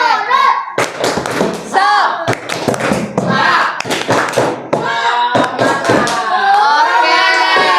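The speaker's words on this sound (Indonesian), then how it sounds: "Ayo kita tepuk semangat dulu ya" A class doing a rhythmic group clapping chant, loud sharp claps in patterned bursts alternating with children's chanted voices in unison, ending on a long sung syllable from the group.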